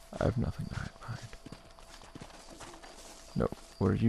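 Horse hooves clip-clopping in the Red Dead Redemption video game, a few quick hoof beats in short bursts close up, with someone talking over parts of it.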